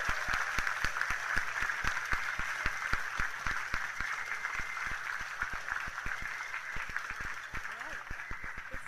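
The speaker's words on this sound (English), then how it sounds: "Let's give everyone a round of applause" An audience at the NASA Human Exploration Rover Challenge awards ceremony claps steadily throughout, a dense, even patter of many hands with voices murmuring underneath.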